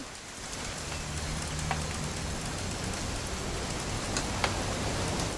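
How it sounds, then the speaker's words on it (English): Steady rain falling in the video game What Remains of Edith Finch, a dense, even hiss of drops on surfaces with occasional louder splats, continuous and close throughout with no talk. "It's gonna rain the whole weekend,"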